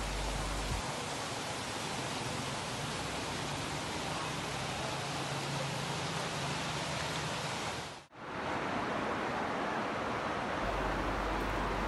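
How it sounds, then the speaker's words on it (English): Torrential rain pours in Chulucanas, Piura, Peru, during a flooding storm: a dense, loud, steady hiss that dips sharply for a moment before resuming. "Torrential rain fell in the Chulkanas area of Piura and flooded houses and"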